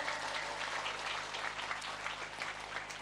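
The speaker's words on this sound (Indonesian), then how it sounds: "Tepuk tangan dulu dong buat Banser." Audience applause at a religious gathering, a continuous wash of clapping heard at a moderate distance over a low steady hum, with no clear voices.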